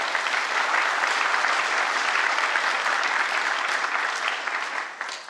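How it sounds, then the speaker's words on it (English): Audience applause at a monitoring tech conference, steady and dense for about five seconds, with the crowd clapping loudly before it tapers slightly at the end. "Another big round of applause for Ben."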